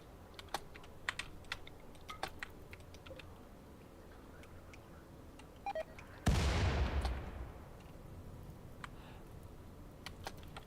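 A mortar in the colony game Rimworld fires once with a loud, sharp blast that dies away over about a second. Faint keyboard typing ticks sparsely before and after.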